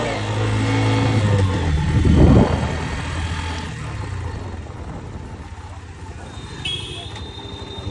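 A Hero Xtreme 125R Fi ABS motorcycle engine on a test ride revs up and pulls through the gears, its low droning note climbing and then settling, with someone talking over it.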